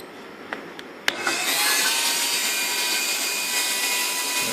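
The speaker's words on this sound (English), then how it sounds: "There's the auger." Auger motor on an LDR auger control switch setup starting after a switch is flipped, with a couple of small clicks first, then a sharp onset into a steady, loud, whining hum that continues to the end.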